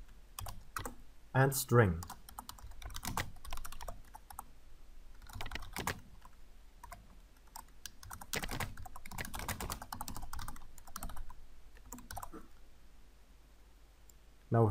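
Bursts of clicky typing on a computer keyboard during a Java programming lesson, irregular keystrokes in clusters with brief pauses, and a voice speaks briefly.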